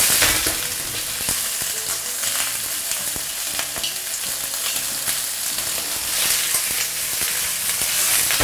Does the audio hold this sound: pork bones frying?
yes